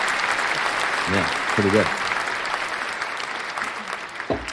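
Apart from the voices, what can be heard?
applause sound effect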